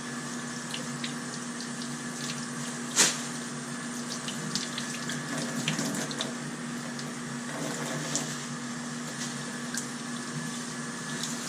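Tap water runs steadily into a sink being rinsed out after aquarium canister filter maintenance, a continuous close splashing stream with a few small clinks, no voices.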